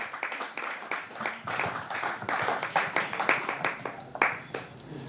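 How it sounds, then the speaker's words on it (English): An audience claps at an evening holiday show, a modest group producing uneven, distinct hand claps with audible individual strikes, rising and falling across several seconds at moderate distance. "Clap, people."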